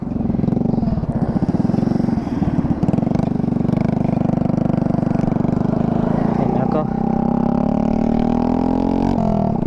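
A motorcycle with a damaged exhaust pipe runs loudly, its rough, raspy engine drone rising in pitch toward the end, close by, while someone talks over it.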